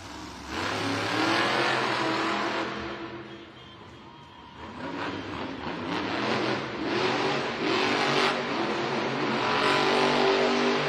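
The Jurassic Attack monster truck revving its engine in an arena, loud repeated roaring revs that dip briefly then surge again, close and dominant over the crowd ambience.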